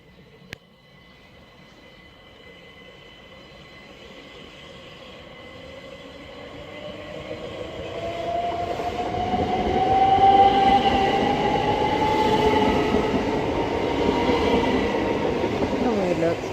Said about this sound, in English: that's 375-612 on 1 Papa 44, the 1518 Southeastern service from Dover Priory to London Victoria